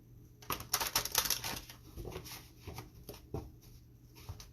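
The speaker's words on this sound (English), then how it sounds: "I'll just shuffle in the meantime." Tarot cards are shuffled close by, with quiet, rapid papery riffles and flicks coming in uneven bursts, no voices.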